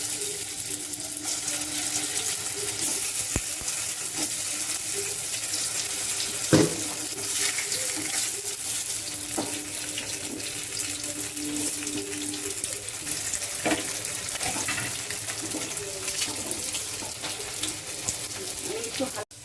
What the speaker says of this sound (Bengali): এই দেখুন মোমোগুলো আমি হালকা করে ফ্রাই করেছি